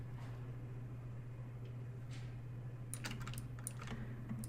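Computer keyboard keys pressed at a desk: a quiet cluster of quick clicks near the end over a steady low hum, close and faint.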